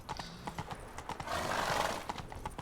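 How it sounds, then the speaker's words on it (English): A horse on an open road in The Witcher 3: Blood and Wine clip-clops in a quick hoofbeat rhythm, with a brief whinny or breathy snort in the middle, fairly faint and without talk. "You cannot gallop any faster than this."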